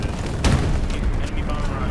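Bombing-run explosions in a video game, a deep booming blast heard once amid continuous low rumble and loud background noise.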